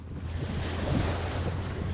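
Ocean waves wash and splash over barnacle-covered rocks near a hurricane-wrecked boat on the shore, a constant near rush with heavy wind buffeting the microphone throughout.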